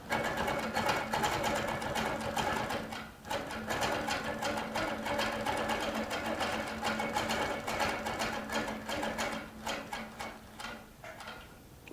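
A Baby Lock Regent sewing machine stitches a quilt guided by a ruler, producing a rapid, continuous mechanical chatter with a steady hum that pauses briefly and then resumes, fairly quiet and close.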